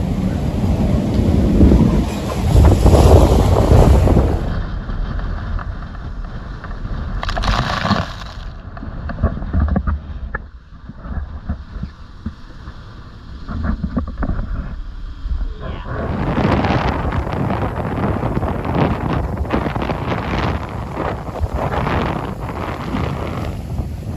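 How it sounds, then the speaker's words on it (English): Strong wind at sea on an Atlantic sailing crossing buffets and roars against the microphone in heavy gusts, easing to a quieter lull midway before surging loudly again, with no voices. "the wind's still blowing."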